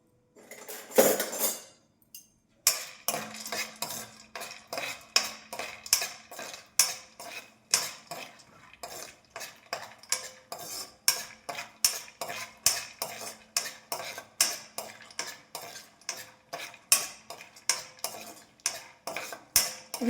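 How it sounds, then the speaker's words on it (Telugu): Cashews and almonds frying together in a pan for ravva laddu: a long run of regular metal spoon scrapes and clinks against the pan, close and fairly quiet, with a soft sizzle underneath and no speech. "ఫస్ట్ నేను కొన్ని కాజు, కొన్ని బాదం ఫ్రై చేస్తున్నాను, కలిపి ఫ్రై చేసేస్తున్నాను"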